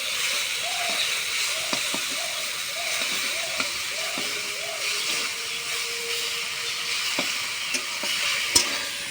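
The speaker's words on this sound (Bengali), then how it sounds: "রসুন তেলে দিয়ে দিয়ে তারপর শাক ঢেলে দিলাম" Greens sizzle and crackle steadily in hot garlic oil in a home kitchen, with a constant hiss, occasional stirring clicks and a few faint soft tones in the background.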